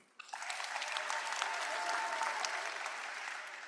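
Graduation audience applause at UWLA rises quickly from near silence into a steady, dense wash of clapping that holds evenly at moderate loudness throughout, with no voice over it.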